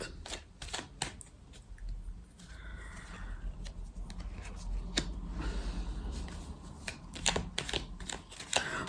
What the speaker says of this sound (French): Je vais recouvrir quelques cartes.